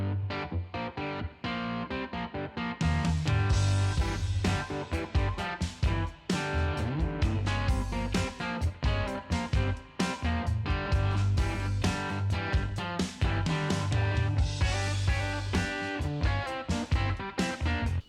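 A laid-back swamp-rock electric guitar riff in G, played with parallel fourths and a gritty, mildly overdriven tone. Repeated picked phrases sit over steady low notes and ring out loud and close, with no talking.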